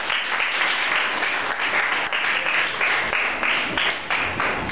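Primary school pupils at a classroom quiz competition break into continuous applause, a bright, even patter of many small hands clapping together that carries on without pause.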